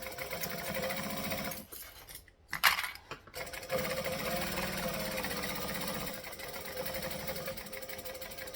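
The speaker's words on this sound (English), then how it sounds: "My machine sounds tinnier when we get close to the end of a bobbin." A home sewing machine stitching close to the end of its bobbin runs with a steady, tinny mechanical whir, pauses briefly amid a few clicks and a rattle, then resumes its even running.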